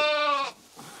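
A sheep or lamb gives one loud, close, wavering bleat that breaks off abruptly, followed by faint background rustle in a flock of milky sheep with lambs kept on a farm.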